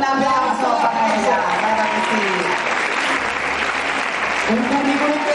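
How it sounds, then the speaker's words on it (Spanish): An audience applauds at an awards ceremony in Marbella, steady clapping that runs for the whole stretch beneath someone speaking loudly over it. "Es un aplauso para ella."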